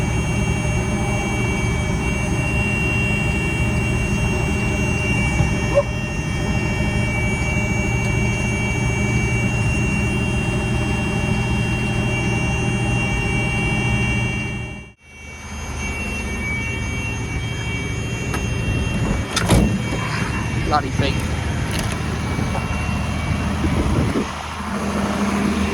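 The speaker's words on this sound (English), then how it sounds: "That is a lorry that's not been started in about 30 years supposedly." Steady engine drone from an old army lorry that has sat unstarted on a farm for about 30 years, running continuously and fairly loud, with a brief dip in level partway through before the running resumes.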